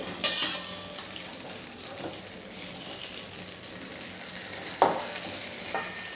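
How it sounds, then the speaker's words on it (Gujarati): Stuffed chillies roasting in a pan, with a soft continuous sizzle and a few brief scraping stirs of a utensil against the pan, close and moderately quiet, no talk. "એક વખત એને ધીમેથી હલાવી લેવાના છે એટલે બીજી બાજુ પણ સરસ શેકાઈ જાય"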